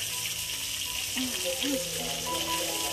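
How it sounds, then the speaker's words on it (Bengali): Food frying in a pan on a home kitchen stove, a broad continuous sizzle under faint background sounds and a few brief squeaky or tonal noises, steady and fairly close. "আর এইদিকে রান্না চলছে"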